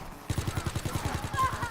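Rapid automatic gunfire from the zombie mode of Call of Duty WWII, on the Darkest Shore map, rattles in a fast, even burst of about a dozen shots that starts abruptly and carries on to the end.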